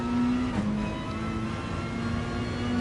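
A race car engine drones at Spa in Gran Turismo Sport, a loud close steady high-revving tone from the cockpit that dips briefly before holding at full throttle.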